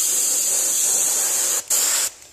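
Compressed air blasts steadily onto a spray gun filter in a workshop, a loud continuous hiss that cuts off briefly, returns for a moment, then stops.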